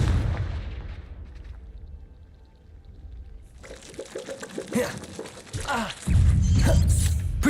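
Confringo fire spells go off in the Hogwarts Legacy video game, a run of blasts, whooshes and crackles with a deep rumble building toward the end, loud and close with no voices.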